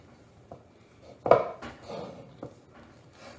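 Risen bread dough for homemade sandwich bread turned out of a container onto a bread bowl, a few soft knocks and one louder thud followed by lighter scraping and bumping, close and quiet.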